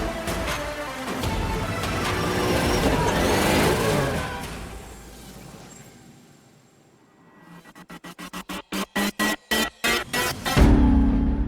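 A Nissan 200SX fitted with a 700-horsepower 6.2-litre V8 and a modified steering rack roars loudly as it accelerates, fades away, then returns as a rapid series of sharp revving bursts and a final loud surge.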